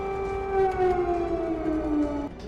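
A siren wails with a steady, slowly falling tone, loud and sustained before it cuts off near the end.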